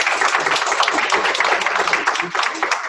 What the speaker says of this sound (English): Can we get Jane a round of applause?